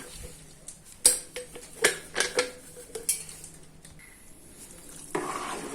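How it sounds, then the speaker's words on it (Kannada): A spoon stirs bisi bele bath mixed with spice powder in a metal pot, giving irregular clinks and scrapes against the sides over a low bubbling simmer. "ಇದನ್ನು ಹಾಕ್ಕೊಂಡು ನೀಟಾಗಿ ಮಿಕ್ಸ್ ಮಾಡಿ ಕುದಿಸ್ಕೊಂಡ್ರೆ ರೆಡಿ ಆಗೋಯ್ತು"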